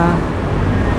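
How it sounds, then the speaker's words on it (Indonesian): Transjakarta bus on a Jakarta road, a loud, dense close rumble of engine and traffic noise filling the whole moment. "ini bus Transjakarta"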